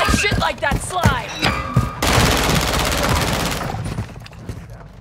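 Gunfire in the video game Call of Duty Modern Warfare 3, with several close, sharp shots in quick succession followed by a sustained rapid burst of automatic fire, with brief in-game voices in between.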